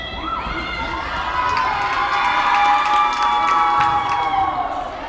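Crowd cheering and shouting at a girls high school volleyball match in a gym, loud and sustained with rising excited voices, whistles-like tones and squeaks over a busy hall.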